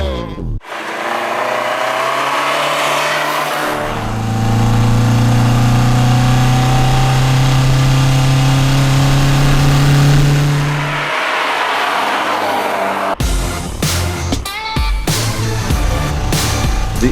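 A 1981 Alfa Romeo Alfetta engine revs up and accelerates. There is a loud, sustained drone that rises in pitch, with a strong steady roar in the middle and a change in tone near the end. No one speaks.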